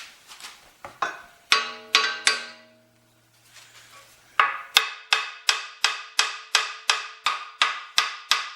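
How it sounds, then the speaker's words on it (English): A copper hammer striking metal parts while an old corn sheller is taken apart: a run of sharp, ringing blows, first irregular, then after a short pause about a dozen evenly spaced strikes close up. "It's a copper hammer, so I shouldn't ding anything up."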